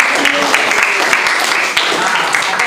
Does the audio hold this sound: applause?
yes